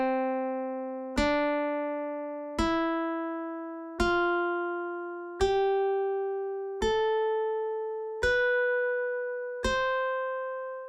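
A major scale played one note at a time on a single pitched instrument, eight clean plucked-sounding tones rising in even steps, each ringing out and slowly decaying before the next, alone and close with no talk.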